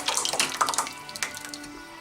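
Tomato and basil pasta sauce glugs and splashes out of an opened jar into a dish for lasagna, a close, uneven run of wet pours lasting about two seconds with no talk.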